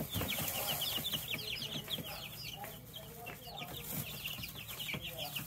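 Many chickens, meat birds and egg layers, cluck and chirp continuously at close range while being fed, a busy overlapping chorus of short repeated calls with faint rustling beneath.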